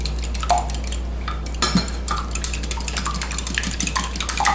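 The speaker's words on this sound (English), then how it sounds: "Beat the eggs." A whisk beats eggs in a bowl, giving rapid metallic clinking and scraping against the bowl over a steady low hum, close and fairly quiet.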